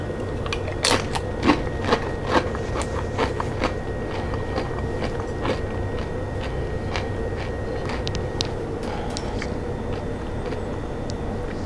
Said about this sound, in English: Watch out for the crunch, cover your ears.